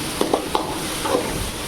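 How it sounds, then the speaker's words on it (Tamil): Golden onions with turmeric being sautéed in a pan, with a few quick scraping stirs of a spoon over a continuous sizzle. "மஞ்சள் தூள் போட்டு நல்லா வதக்குங்க"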